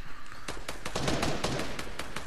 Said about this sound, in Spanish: Oye, escucharon balazos.